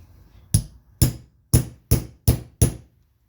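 A hammer strikes a metal punch to set a snap on a leather vest, with six sharp, loud metallic whacks in an uneven rhythm and a short ring after each, close up with no talking.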